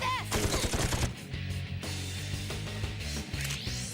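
Quick bursts of gunshots with several sharp, close cracks over the first second and later scattered shots, heard under a tonal music-like background.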